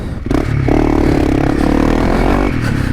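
Motorcycle with an aftermarket exhaust pipe revving close by, a loud throaty engine note that rises quickly and holds a rough, barking drone for a couple of seconds.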